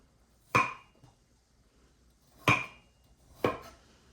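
A knife chops the eyes off a vegetable for Korean hakseong soup, making three sharp, separate thunks against a board at uneven intervals, close and fairly quiet.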